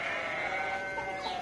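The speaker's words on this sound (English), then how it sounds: "He has 5 goats." A goat on a farm lets out one sustained, wavering bleat, loud and close, over a light background hiss.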